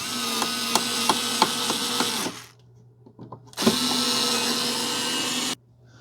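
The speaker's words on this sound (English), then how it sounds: "Then you're just simply going to screw them down." Cordless screwdriver driving the screws of a Leviton single-pole 5601 light switch into a wall box, two steady close whirring runs separated by a brief pause with small clicks.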